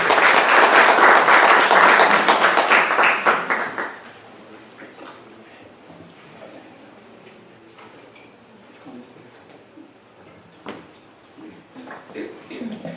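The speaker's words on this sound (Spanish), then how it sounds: "les pido, les demos un fuerte aplauso para recibirlos a esta sesión" Loud applause from the audience at a hospital's general medical session on prenatal diagnosis rings out for about four seconds and then fades away. Quiet room noise follows, with a few scattered knocks.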